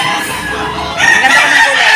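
A spangle rooster with a bulky body crows at a busy chicken market, a bright drawn-out call rising in the second half over steady crowd murmur.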